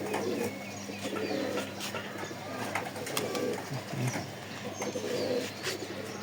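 Pigeons coo softly against a steady, noisy outdoor backdrop, with a few brief chirps and clicks scattered throughout.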